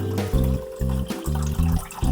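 Water sprinkled by hand onto sticky rice, a few splashy trickles and drips under a loud, steady tonal hum that pulses in regular on-off bursts, with no speech.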